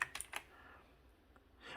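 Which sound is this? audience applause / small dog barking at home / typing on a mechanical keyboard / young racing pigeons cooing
typing on a mechanical keyboard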